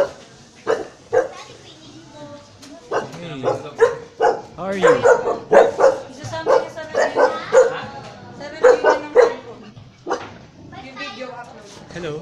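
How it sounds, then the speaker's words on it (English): Several small dogs bark and yip in short bursts close by, mixed with a person speaking over them. "They're now barking."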